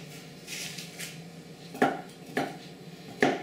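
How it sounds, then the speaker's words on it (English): A knife cuts celery sticks on a cutting board in a home kitchen, giving three sharp, close chops spaced about a second apart over a low background hum. "We'll cut the celery sticks"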